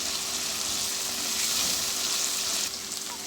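Garlic frying in a pan: a steady, close hiss and sizzle of hot oil running continuously with no talk, softening slightly toward the end.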